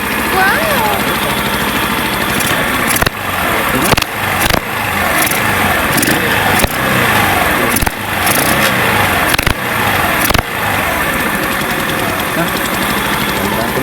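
A small Honda Easy Ride 150 motorcycle engine, kick-started because of a broken starter, runs at a rough, steady idle with clattering knocks and occasional sharp mechanical bursts, close and loud.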